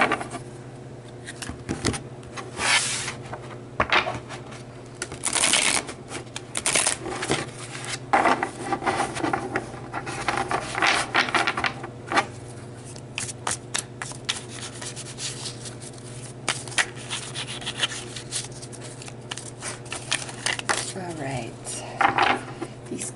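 A tarot deck is shuffled up close, giving repeated papery rustles and soft clacking bursts over a steady low hum.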